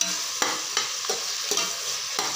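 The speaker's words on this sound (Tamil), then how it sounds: "நல்லா வதங்கட்டும்." Sliced onions sizzle steadily in hot oil in a pan for soya chunks biryani, with a spoon scraping and stirring them at a few regular intervals, close and loud with no talking.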